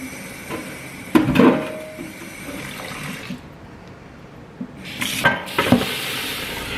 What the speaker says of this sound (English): I'm just gonna water those now while I'm here